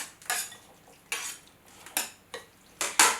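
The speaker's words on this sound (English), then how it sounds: "Do you want to stir that too?" Utensils clink and scrape against a bowl in five quick separate bursts while stirring a tuna melt filling, close and fairly clear with no talking.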